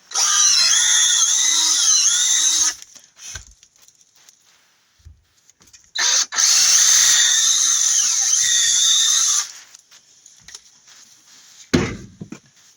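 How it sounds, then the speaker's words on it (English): A power drill boring into a seasoned firewood log to make a hole for a moisture probe, two sustained loud whining bursts of several seconds each separated by a pause, followed by quiet handling knocks. "I'm going to drill a hole for the probe."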